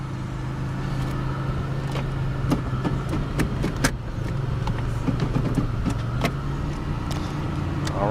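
A 2002 Pontiac Grand Prix GT engine runs at a steady idle just after starting, with a smooth low hum throughout. Several sharp interior clicks and taps cut in over it, and no one speaks.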